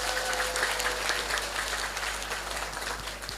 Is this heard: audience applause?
yes